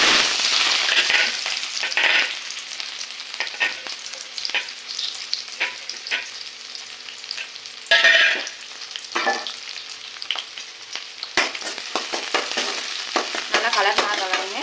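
Mustard seeds spluttering in hot peanut oil while making chicken varuval: loud, irregular crackling and popping up close, with bursts of sizzle and stirring scrapes throughout.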